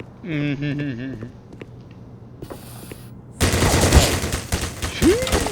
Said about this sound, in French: Ça tire à vue cette merde.